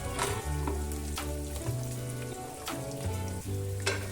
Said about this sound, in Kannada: ಕೊಬ್ಬರಿ ಕೂಡ ಒಂಚೂರು ಫ್ರೈ ಆಗಬೇಕು.